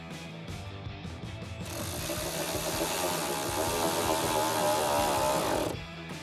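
14mm tool tightening rear shock hardware on a 2011-2014 Mustang, heard as a steady, loud mechanical whirring and rattle that ramps up after a couple of seconds and cuts off near the end, with no talk.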